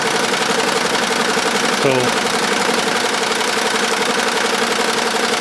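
An embroidery machine stitches a round logo onto the back of a mesh cap, a loud steady mechanical rattle with fast even knocking that continues throughout while someone speaks over it.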